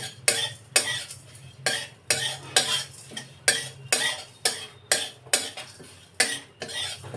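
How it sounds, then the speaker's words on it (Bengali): Whole black peppercorns stirred in a dry pan: about a dozen sharp, rhythmic scraping and rattling strokes at a steady pace, close by, with a low hum underneath and no voices. "আস্ত গোটা গোলমরিচ, এগুলো আমি শুকনো কড়ায় নেড়ে নিয়ে আমি এটা মিক্সিতে দেব"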